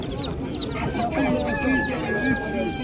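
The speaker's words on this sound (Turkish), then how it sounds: "Horozlar?" Roosters at the Kırıkkale poultry market give strained crowing and clucking calls, fairly close, over a steady crowd murmur and nearby voices.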